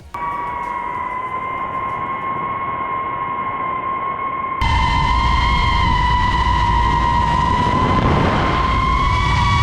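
Steady high-pitched motor whine from a DJI FPV drone recorded by a top-mounted GoPro, with sustained tones growing louder and rougher midway as the drone speeds up, with wind rush and no voices.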